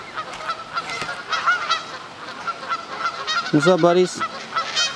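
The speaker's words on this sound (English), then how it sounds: "I honestly feel like these geese are just following me wherever I go." A flock of geese honking outdoors on a disc golf course, repeated nasal honks from several birds scattered throughout, one loud close honk series near the middle, with someone talking briefly over them.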